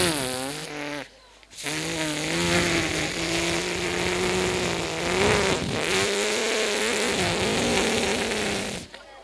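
A voice imitates a wood-cutting machine at a school function: a loud, rough, buzzing drone that starts after a short pause, runs unbroken for about seven seconds with slight wavering, then cuts off.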